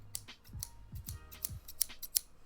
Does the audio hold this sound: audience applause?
no